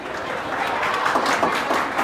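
Students clap together in a classroom, a steady, dense patter of many hands that keeps going at an even level for about two seconds.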